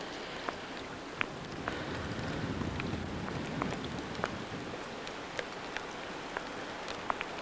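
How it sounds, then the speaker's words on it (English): Light drizzling rain at a Miami Beach marina, a faint hiss with scattered soft drip clicks at irregular intervals, quiet and even. "Still drizzling rain."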